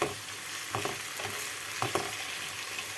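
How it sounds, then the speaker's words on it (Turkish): Potatoes sizzle steadily as they fry in a pan while a utensil scrapes and stirs through them in a few short bursts. "Şöyle biraz karıştıralım"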